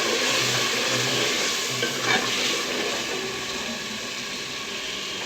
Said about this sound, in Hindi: इसको हम 5 मिनट तक भूनेंगे ताकि अच्छी तरीके से भून जाए